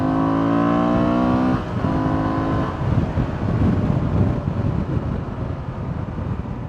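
A 2024 Honda Transalp 750 motorcycle engine revs high and then drops as the rider shifts, followed by rumbling running over steady wind buffeting on the microphone.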